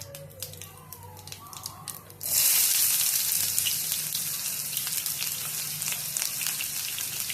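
Chopped onion with cumin and mustard seeds hits hot oil for a ridge gourd bhaji, bursting into a loud, steady sizzle after a few seconds of quiet kitchen hum and continuing as a dense hiss.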